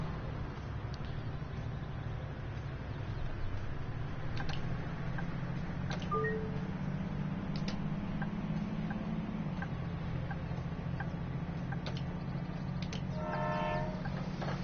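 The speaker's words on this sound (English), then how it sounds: "That was a train." A train rumbles past in the Bus Simulator video game on PS4, a low steady rolling drone with faint ticking clicks and a brief horn-like tone near the end, heard alone at moderate level.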